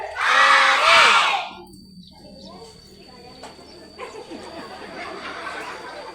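Children shout a loud hooray together during a storytelling sing-along, a brief burst of high bright voices at the start, then quieter murmuring and scattered voices afterward.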